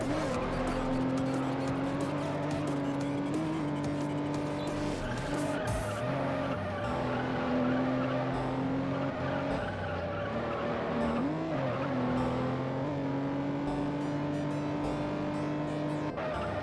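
A Toyota Supra races and skids in a racing video game, its engine droning steadily with shifting revs and tire squeal running throughout, loud and continuous with no talk.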